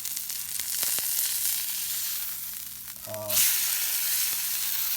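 Meat sizzles steadily in a hot pan after being flipped, skin removed, a constant hissing fry heard alone, with a brief clink of a utensil partway through.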